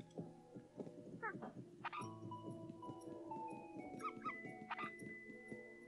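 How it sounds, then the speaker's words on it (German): Dog barks in the video game Yoshi's Crafted World, a few short yips and barks spread among game music and effects, moderately loud. "Wo bist du, du blöder Köter?"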